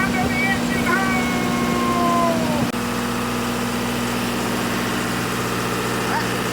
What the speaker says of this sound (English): That's the generator running.